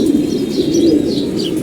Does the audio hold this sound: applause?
no